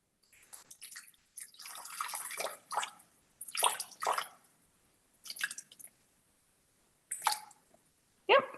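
Water pours into a Thermomix TM6 mixing bowl in several short splashy bursts with gaps between them, close and fairly quiet, with no talking.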